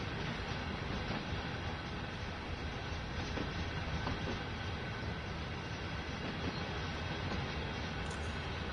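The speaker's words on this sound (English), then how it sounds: "nice long train coming down for us." A long freight train of 40 wagons hauled by three locomotives in the Train Sim World 2 game, rolling past as a continuous loud rumble and wheel noise that holds steady throughout, with no voices.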